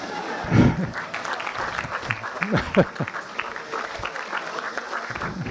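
Rehearsal dinner guests applauding, loose clapping with voices and cheers mixed in, moderately close and fairly steady throughout.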